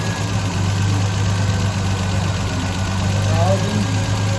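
A 1974 Triumph TR6 engine with a backfiring problem idles steadily with a low, even drone and faint knocking, close by, and voices talk over it.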